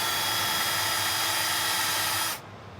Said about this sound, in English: We're back to the same hole with the 25/64 drill bit.